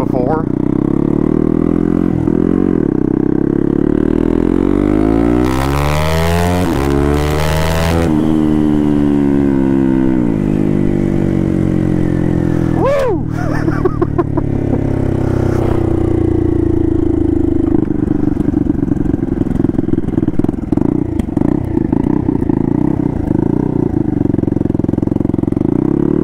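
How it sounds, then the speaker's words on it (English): Honda Grom motorcycle with a turbocharged CBR engine swap, riding with a loud, continuous engine drone that shifts pitch up and down through gear changes, with a brief whistling sweep partway through. "you can hear the turbo quite a bit"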